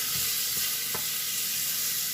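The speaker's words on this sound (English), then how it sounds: "whenever you're frying your onions" Onions fry in a pot for Swahili pilau, giving a steady, dense sizzle with faint stirring knocks, close and continuous with no voices.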